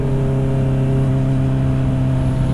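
A Honda CB650R inline-four motorcycle engine runs on a night ride with a steady, close, humming drone that holds an even pitch and loudness throughout.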